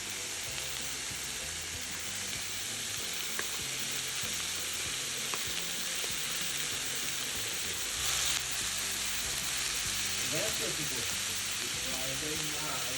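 Turkey frying in a pan gives a steady, loud sizzle with dense crackling hiss that runs unbroken for the whole stretch, with a few faint clinks beneath it.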